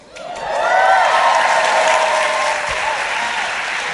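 Applause from a live audience at the 92nd Street Y in New York City, many hands clapping together, rising quickly and holding steady before easing slightly toward the end.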